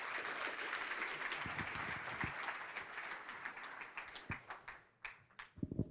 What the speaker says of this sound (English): Please join me in giving him a large round of applause.